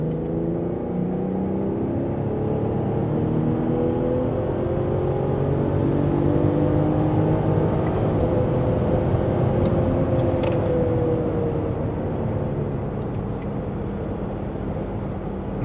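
A car running hard through fourth gear under a data-logged pull, a steady loud engine drone with rising harmonic tones throughout, close and continuous, with no speech over it.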